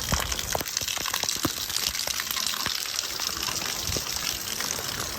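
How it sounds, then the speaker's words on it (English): Storm water after a thunderstorm rushes past fast and deep, a steady broadband roar and gush with small splashes throughout, close and continuous. "Look how fast that water's going."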